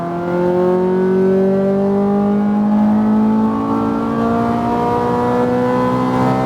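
A Ferrari F430 F1 at full throttle on a track, its engine note climbing steadily in a loud, close, continuous rising whine, with the rising pitch sweeping upward through the gear.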